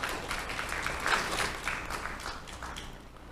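An audience at a business breakfast meeting panel gives a quiet, distant round of applause to welcome a panelist, a soft continuous patter of many hands that swells slightly and then tapers.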